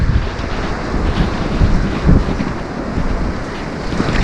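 Strong wind on a seashore at Lazarevskoye near Sochi on a cool day, a loud, steady rushing roar buffeting the microphone, with surf and water noise mixed in and gusts swelling throughout.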